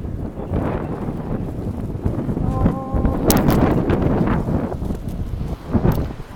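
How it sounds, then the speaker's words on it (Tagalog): Steady wind gusts buffet the microphone in a low, rushing roar on a Dubai street, with faint street sounds and a brief tone partway through. "Maganda ngayon, mahangin."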